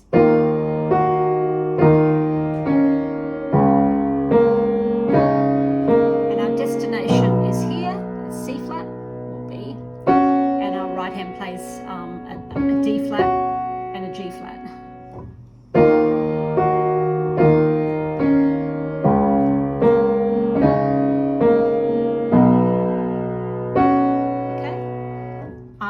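Piano playing the part of a song with both hands, full chords and a melodic line flowing steadily and clearly, with sustained notes ringing between phrases and no talking.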